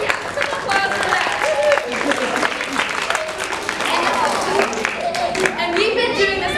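An audience at an elementary school drama club play bursts into sustained applause and cheering that stays loud throughout, with voices calling out within the crowd noise.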